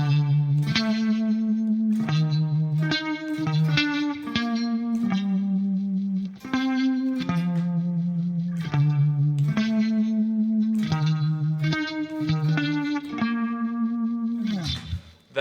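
Clean electric guitar through a vibrato pedal plays the verse riff of Audioslave's "Like a Stone": a steady, continuous line of sustained, gently wavering notes with a soft reverb tail, alone and up close without talk.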